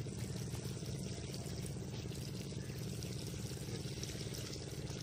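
Water pours steadily onto newly planted cuttings to soak them through, a constant, faint, even wash of liquid with no voices.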